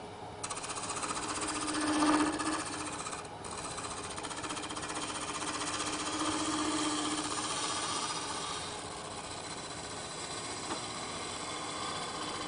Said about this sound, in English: I'm using a shear cut with the bowl gouge, and you can hopefully see the very fine shavings coming off.